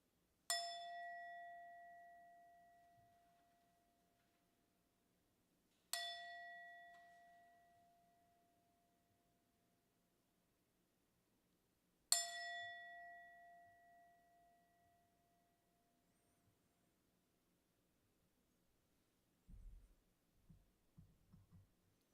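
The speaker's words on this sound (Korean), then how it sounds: "이제 세 번의 종을 칩니다." A church bell rings three times during a Sunday worship service, each stroke a clear ringing tone that hangs and fades slowly, spaced about six seconds apart, with quiet room noise and a few soft bumps after the last one.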